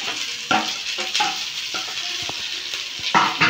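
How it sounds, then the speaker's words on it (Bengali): Fried vegetables and raisins are stirred into semolina pulao in a hot pan. A constant loud sizzle runs throughout, broken by several sharp spoon scrapes and knocks against the pan, with no voices. "আমি ভালো করে নাড়ি চাড়িয়ে নেবো"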